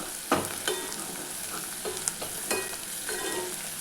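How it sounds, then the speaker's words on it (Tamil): Gram flour frying in oil for a Tamil capsicum side dish, a steady close sizzle with soft bubbling, punctuated by several stirring scrapes and clinks at irregular intervals, no talking. "கடலை மாவு சேர்த்து நல்லா பொங்கி வருது பாருங்கள்."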